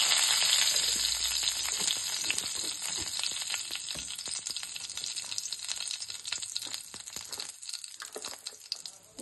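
Cumin seeds and bay leaf sizzle in hot ghee for a dhaba-style masala paneer gravy, a loud, steady crackling fry with scattered pops and spits that gradually thins out.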